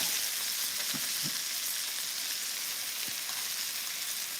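Gluten-free chicken pieces frying in hot oil just after being turned, a dense, continuous sizzle with a few soft low thumps early on, steady and close with no voices.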